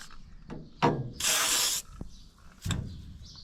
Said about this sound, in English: here's my can of spray chain lube. Trying to get some on it. It's a real challenge. Spraying it everywhere.